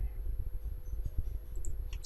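A computer mouse clicks during manual 2D point tracking in 3DEqualizer4 software, several light clicks scattered over a low background hum, close and quiet.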